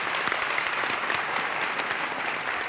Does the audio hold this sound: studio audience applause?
yes